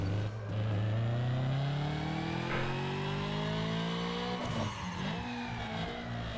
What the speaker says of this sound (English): let's quickly do a Dino Run and see how much power this car has